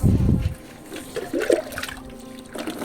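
Water rushes from the pipe of a newly started motor pump, a loud gushing burst at first that settles into a steadier, quieter flow with splashing.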